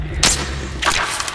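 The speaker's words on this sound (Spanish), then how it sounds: "a ver si no fallo el disparo" Gunfire in the video game The Last of Us: two sharp shots about half a second apart, loud and close, over a steady low game background hum.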